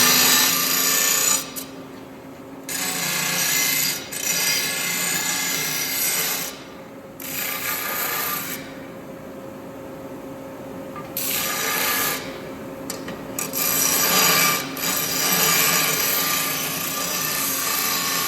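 A power sander works over a wooden battery box built for a junkyard Jeep, a steady loud rubbing grind that pauses briefly several times and resumes, with no talking.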